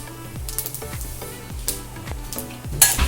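Cumin and other spices sauté in hot oil for a crab roast curry, with a continuous sizzle and repeated scraping strokes as the spices are stirred in the pan.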